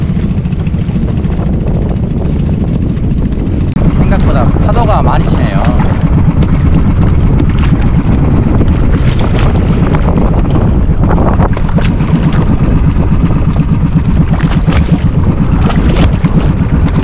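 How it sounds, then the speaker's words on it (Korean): A small outrigger bangka fishing boat rocks on rolling waves at sea off the Philippines, heard as a constant roar of wind and water with sloshing and splashes. "보니까 파도 넘실거림에 배가 아주 출렁출렁합니다."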